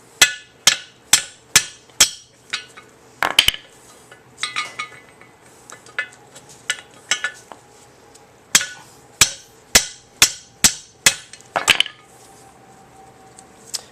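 A hammer strikes a stubborn rear sway bar end link bushing on a Jeep Grand Cherokee in quick bursts of sharp, ringing metal blows, several in a row, then pauses before another series, loud and close.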